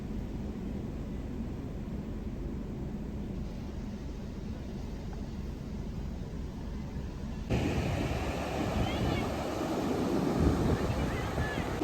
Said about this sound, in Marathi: बघा कशा लाटा येतात समुद्रात.